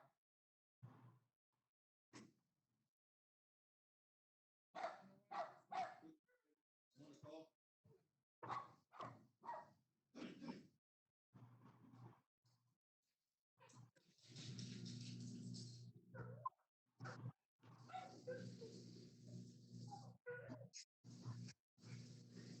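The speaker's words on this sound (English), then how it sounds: "I need to get my dog to shut up." A dog barks and whimpers in short bursts between stretches of a person talking during an online Board of Health meeting, with a steady hum building up partway through.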